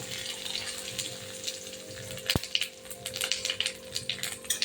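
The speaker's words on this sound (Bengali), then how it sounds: "কড়া গরম হয়ে গেছে, এবার আমি তেল দিয়ে দেবো ফোড়নের জন্য।" Bay leaf and cumin tempering in hot oil in a Bengali kadai, a close crackling sizzle with sharp pops and spatters over a low hum, no voices.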